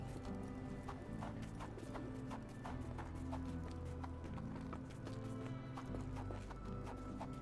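Horse hooves clip-clopping steadily with occasional neighing in the horror video game Stygian: Outer Gods, a continuous rhythmic trot over a dense, loud ambient backdrop.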